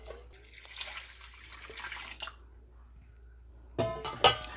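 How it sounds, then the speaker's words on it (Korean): Salted water poured into young radish kimchi, a close trickling splash over the first couple of seconds, then near quiet, then a short burst of wetter splashing and squishing at the end. "물에 소금을 타서 좀 더 넣어줄게요"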